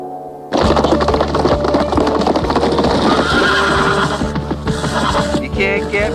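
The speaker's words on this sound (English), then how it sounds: "This is the orneriest horse in Polecat Flats." A cartoon horse neighs loudly and repeatedly over a busy, dense background of clattering hooves and movement, close to the listener.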